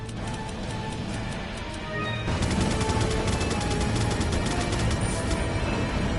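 Gunfire in the survival horror game Resident Evil 4, a dense run of rapid sharp shots and clatter that grows louder and busier about two seconds in, then keeps going steadily to the end.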